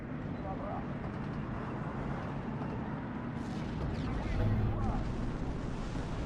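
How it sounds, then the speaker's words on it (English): A bomber's bomb detonates on a German Tiger tank in the World War II strategy game Steel Division 2, a broad rumbling blast swelling midway through a dense bed of battlefield noise and talk. "I heard an explosion. Yep, we just blew up the Tiger with the bomber."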